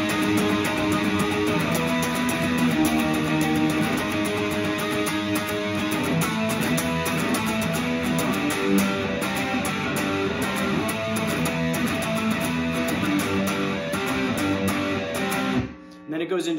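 Distorted electric guitar playing a punk song from verse through chorus, dense and loud throughout, stopping abruptly near the end.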